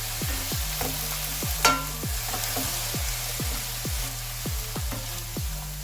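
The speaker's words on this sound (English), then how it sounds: "Now let's mix it around." A spatula scrapes rhythmically around a hot pan, stirring a spring roll filling seasoned with ketchup, soy sauce and salt, about a dozen repeated strokes over a soft continuous sizzle, close and clear, with no talking.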